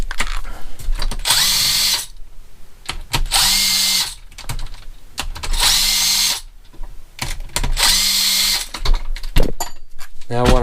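A power drill backs screws out of a Holley carburetor in four loud bursts of whirring motor, each spin ending with a short pause and clicking, close up with no talk.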